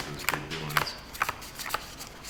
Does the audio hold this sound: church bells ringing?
no